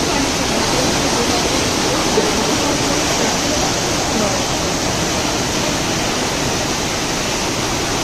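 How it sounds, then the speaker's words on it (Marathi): Loud, steady rushing water at Gagangiri Maharaj Math in Khopoli, a dense unbroken roar like a forceful cascade that fills the scene close up. "बाकी तुम्ही पाण्याचा जो आवाज आहे तो एन्जॉय करू शकाल."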